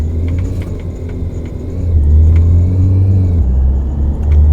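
A taxi engine in the driving game Taxi Life accelerates with a steady low rumble that swells louder around midway and stays strong, with faint clicks above it.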